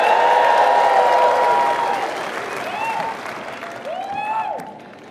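An audience at a commencement speech bursts into loud applause and cheering, which fades gradually over a few seconds.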